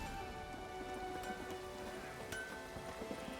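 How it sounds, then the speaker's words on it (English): Steady rain falls in The Witcher 3 game world, a continuous even patter on surfaces with scattered louder drops, with no voices over it. "It's raining."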